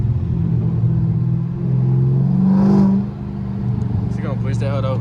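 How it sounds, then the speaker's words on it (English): A 500 hp Dodge Charger Scat Pack's exhaust rumbles loudly as it accelerates on a freeway, with the pitch climbing and easing, and a voice talks over it. "I can't hear him though over my exhaust"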